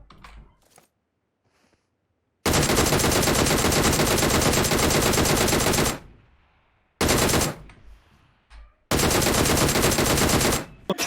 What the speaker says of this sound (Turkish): Ulan herif buradan sıkıyor